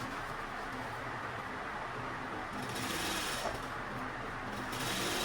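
A sewing machine stitches a bag in steady rapid rhythm, a continuous close mechanical whir with fine repetitive ticking, swelling slightly in the second half.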